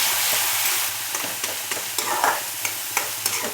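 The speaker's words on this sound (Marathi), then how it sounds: "हे मसाले छान परतून घ्यायचे" Oil sizzles steadily while a spoon scrapes and clicks against the pan, stirring spices, including bay leaf, in an irregular rhythm.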